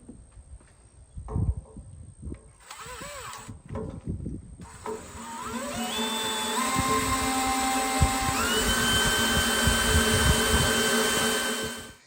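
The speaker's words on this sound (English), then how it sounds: "I'll probably drill like a 1/4 inch hole first, and then throw a 3/8 inch bit through that." A few handling knocks, then a power drill spins up and grinds steadily through steel for a Land Cruiser 100 rear bumper, its whine shifting in pitch as it bites.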